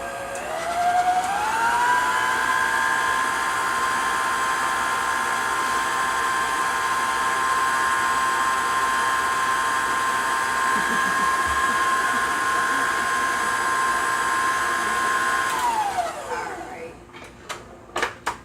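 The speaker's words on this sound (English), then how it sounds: "I left the milk sitting up behind the mixer here. Mix that up and see how we do." An electric stand mixer beating yellow cake batter in a bowl, a steady loud whine that rises in pitch as it speeds up, holds for about fifteen seconds, then winds down and stops, followed by a few light clicks.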